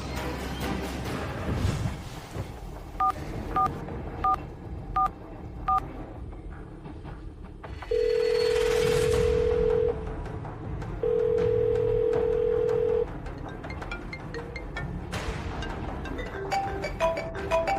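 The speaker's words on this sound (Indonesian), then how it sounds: "aku angkat telepon dulu. Kok dua-duanya berdering?" Telephone tones and ringing in an Indonesian-language video game scene: a run of evenly spaced dialing beeps, then two long, loud rings at close range over a steady background game soundtrack.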